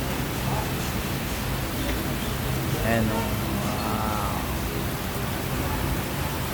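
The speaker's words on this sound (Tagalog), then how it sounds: "So lakas ng ulan, guys." Heavy typhoon rain pours steadily as a broad, hissing wash on a street in BGC, with traffic noise and motorcycle taxis in the mix and people talking briefly over the downpour.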